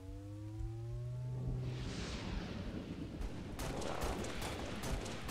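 Weapon fire in the shooter game Halo Reach, a dense rattling barrage of shots and blasts that swells and continues throughout, with a burst of sharp repeated cracks near the end and no talking.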